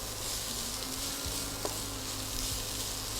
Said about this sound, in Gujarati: 3-4 મિનિટ આપણે આને સોટે કરી લઈશું